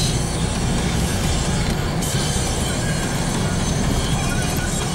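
A train at La Louvière Centre station gives a loud, continuous rumble of wheels and rail noise, steady throughout with a brief shift in texture midway.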